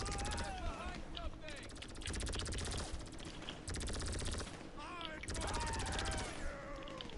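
Rapid automatic gunfire in GTA 5, dense bursts of shots with brief pauses between them, loud and continuous throughout.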